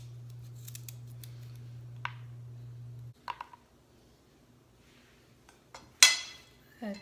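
Sweet potatoes being sliced into circles with the skin left on: a few separate, crisp cutting snaps, close and fairly loud, spaced out against a quiet background hum.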